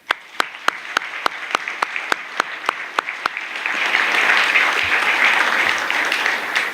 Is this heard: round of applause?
yes